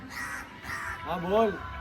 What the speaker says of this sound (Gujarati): બોલા પ્રતિક કાગડા જો વાતો કરે, મને બોલાવે છે એમ?